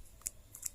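Scissors snipping through crochet yarn, two or three quick sharp close snips in an otherwise quiet moment.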